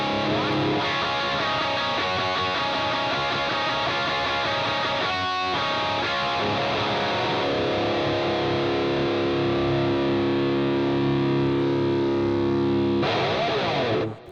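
Fender Strat electric guitar with heavy distortion, loud chugging riffs and sustained power chords ringing out, with a short scraping burst midway and a final flurry before cutting off.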